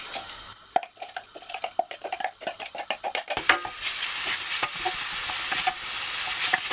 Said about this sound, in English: So while the onions are cooking, you want to make sure you keep stirring them